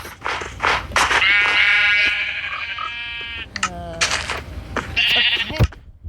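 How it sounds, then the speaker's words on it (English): Spawned sheep in a video game bleat several times in long, nasal calls, close and clear, with brief clicks and other game sounds between them. "As you see, I spawned in some sheep."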